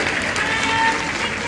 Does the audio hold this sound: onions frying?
no